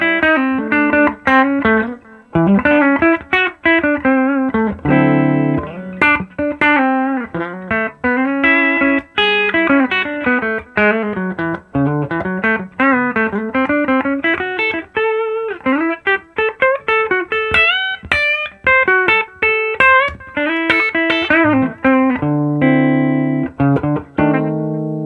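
Gibson Les Paul Classic 1960 Reissue electric guitar played through a clean 5E3 amp with tone knobs rolled down and a touch of Carbon Copy analog delay, sounding as continuous melodic single notes and chords with soft repeats, close and steady with no talking.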